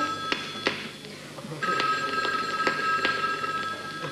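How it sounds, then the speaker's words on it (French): A telephone rings with a steady electronic tone that begins partway through and holds to the end, preceded and accompanied by a few sharp taps and knocks in a quiet room. "Un coup de téléphone de dernière minute."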